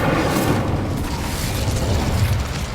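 A fire spell cast in Hogwarts Legacy erupts in a loud, continuous burst of rumbling, crackling flame that holds steady for a few seconds, dense and close with no talk over it.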